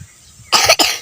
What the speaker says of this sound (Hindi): खांसी आ रहा है बाबा।